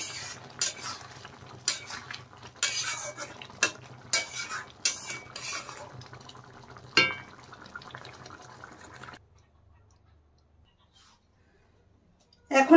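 Egg and potato dopeyaja curry scooped from a pan into a bowl with a metal spoon, giving repeated clinks and scrapes of utensil on cookware for several seconds, then silence, with a soft sizzle beneath.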